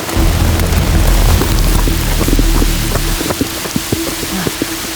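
Rain falls steadily outside an abandoned church in Vietnam, a dense hiss with a low rumble that fades after a few seconds, leaving scattered drips and taps.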